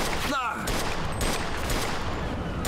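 Enemy gunfire pours in during a shootout in Mafia 2 Definitive Edition, a loud, continuous barrage of overlapping shots that fills the whole stretch without letting up.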